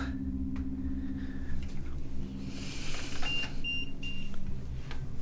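A few short, thin electronic beeps from a device in a pocket, set off by a phone's magnet, sound faintly over a low background hum, with a longer tone near the start.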